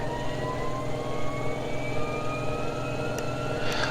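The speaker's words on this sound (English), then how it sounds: "Start the engine there." Epic Victory single-engine very light jet starting up in FSX, a rising turbine whine climbing steadily in pitch over a low steady engine rumble, alone with no talk.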